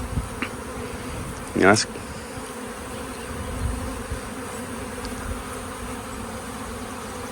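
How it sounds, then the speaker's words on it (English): A honey bee swarm buzzes outdoors as a steady insect drone, with one louder bee passing close by. Someone speaks briefly. "I think I got me a swarm going on here"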